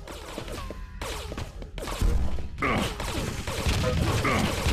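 Rapid gunfire from a weapon in the Quake 3 VR shooter game: repeated sharp shots in bursts that grow denser and louder toward the end, with game effects layered underneath.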